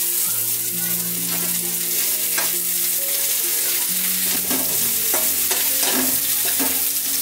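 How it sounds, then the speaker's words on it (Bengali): Onions frying in hot oil in a kadai while vegetable bread rolls are being made, with a steady loud sizzle under repeated scraping and stirring strokes of a spatula against the pan. "তেলটা গরম হয়ে গেলে পেঁয়াজটা দিয়ে দেব।"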